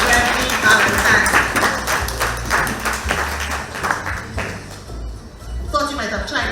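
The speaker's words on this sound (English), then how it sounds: "Give him another round of applause" An audience applauds Mr. Gregory Valentine at a civic reception and awards ceremony, giving a steady, close wash of clapping that thins slightly toward the end.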